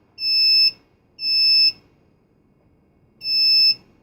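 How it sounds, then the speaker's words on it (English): A fume cabinet controller sounds its no-airflow alarm: three loud, piercing electronic beeps, each about half a second long, with the last one after a longer pause, heard alone in a quiet room. "it would go into alarm and turn off the system"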